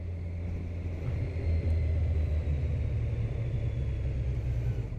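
A Kawasaki Z900 motorcycle is ridden on the road, its engine a loud, steady low rumble with a constant drone and no pauses, no voices over it.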